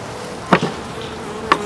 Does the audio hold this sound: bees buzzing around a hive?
yes